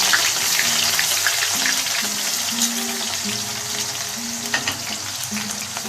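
Sliced onions hiss and crackle steadily as they drop into hot oil in a home kitchen pan, with a loud, continuous sizzle, occasional clinks of utensils and a faint tonal hum underneath.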